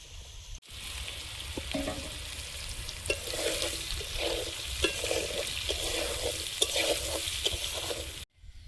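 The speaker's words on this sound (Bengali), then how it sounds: "এবারে সয়াবিনগুলো দিয়ে ভালোভাবে ভেজে নেব" Soybeans and potatoes sizzle and crackle steadily in hot oil while a utensil scrapes and stirs the pan at intervals, close up and continuous.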